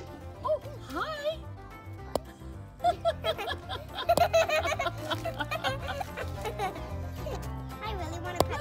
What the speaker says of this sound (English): we're gonna go and rescue a wayward chicken